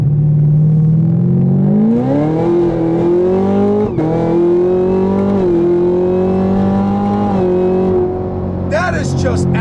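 A 2017 Chevrolet Camaro ZL1 accelerates hard in second gear, its engine note climbing loud and steady from inside the car, with a brief shift blip partway through and a voice speaking over it.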